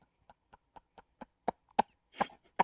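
A person coughs about ten times in a row. The short, dry bursts are fairly close and build in force, ending with a couple of harsher, louder coughs.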